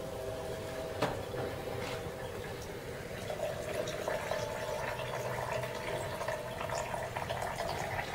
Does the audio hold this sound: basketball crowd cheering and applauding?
no